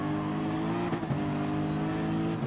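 Gr.3 race car engine at the Nürburgring in Gran Turismo Sport, a loud steady high-revving drone with a brief dip and shift in pitch near the middle, alone without talk.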